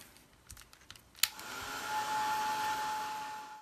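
Hair dryer blowing steadily on the back of a glued tea bag in mixed media craft work, switched on after a few light clicks and crinkles, then a close, continuous whooshing hum.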